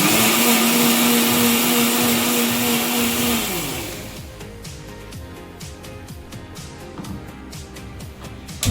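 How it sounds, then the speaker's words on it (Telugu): A kitchen mixer grinder whirs loudly, blending tomatoes and a few cashews into a purée for paneer curry. After about three and a half seconds it winds down and stops, leaving scattered clinks and handling noises. "ఫస్ట్ టమాటాలు మిక్సీలో వేసుకోవాలి."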